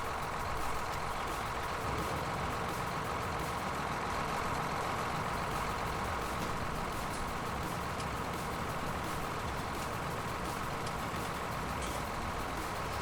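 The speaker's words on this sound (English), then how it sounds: "How good is this skid steer?" Skid steer engine in Farming Simulator 2019, a steady droning rumble that runs unbroken and fairly loud throughout, with no talk over it.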